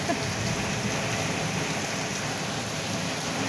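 Light rain patters steadily outdoors in a courtyard filling with puddles, a dense continuous hiss of drops on surfaces throughout with no voices.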